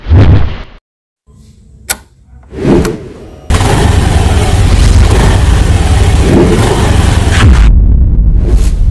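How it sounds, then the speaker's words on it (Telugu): A scooty starts up after a few clunks and short bursts of noise, then its engine runs loud and close for several seconds before cutting back. "తర్వాత మనం స్కూటీ స్టార్ట్ చేసి"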